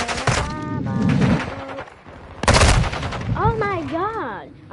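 Dual Glock pistols firing in the video game Modern Warfare 2, two sharp bursts of rapid shots separated by a brief gap, loud and close, with tonal game sounds and a voice briefly over them.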